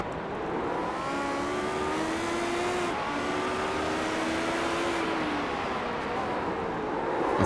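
A Lotus 79 race car drifting in iRacing, its engine holding a steady high whine with pitch wavering as revs rise and fall, continuous and fairly loud under a rushing background.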